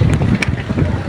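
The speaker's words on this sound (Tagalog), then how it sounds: "Grabe kay kakusog dira ang hangin guys so akong buhok mapalid jud." Strong wind at a beach resort with cottages, buffeting the microphone in loud, low, rumbling gusts that continue without a break.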